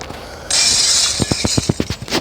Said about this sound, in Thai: เสียงกระจกแตก ASMR